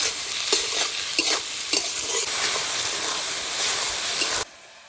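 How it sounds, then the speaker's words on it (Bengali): Chopped tomato and onion with salt frying and being stirred in a pan, giving a steady loud sizzle with rhythmic scraping strokes before the sound cuts off abruptly near the end. "টমেটো আর পেঁয়াজ ভালো করে ভেজে নিয়েছি"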